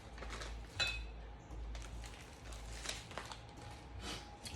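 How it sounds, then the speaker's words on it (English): Apple spice donut batter whisked in a bowl, a quiet, close series of irregular scraping clinks and taps from the whisk against the bowl over a low background hum. "I'm still whisking, as you can see."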